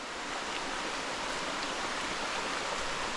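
Continuous rushing water, a steady broadband wash like a nearby stream flowing over rocks, with no other sounds and no talk.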